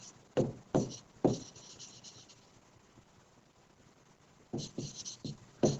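Chalk or marker strokes land on a classroom board as a math solution for a class 10 lesson is written out, a few sharp scratchy bursts at the start and end with quieter stretches between.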